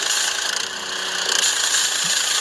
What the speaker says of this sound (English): And this is a pressure washer.